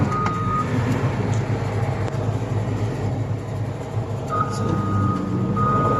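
A Cat M318D wheeled excavator with a slow-speed fault driving in first gear, a loud steady engine and drivetrain rumble with intermittent high warning beeps; someone says a single word.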